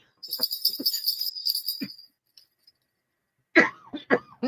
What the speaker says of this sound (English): See, now I'm coughing as I talk.